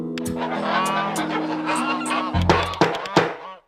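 Cartoonish honking quacks from a duck character in the video game A Space For The Unbound, a rapid string of calls over game music, with several louder honks near the end.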